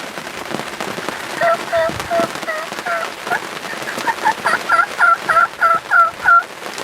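Rio Grande wild turkey gobblers in Kansas gobble in rapid rattling bursts, a few at first and then a quicker run of calls, over a steady patter of rain.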